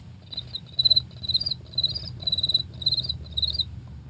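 A voice actor imitates a cricket with a rapid, high chirping, eight quick trilled bursts in a steady rhythm over a low room murmur, close and clear with no talking.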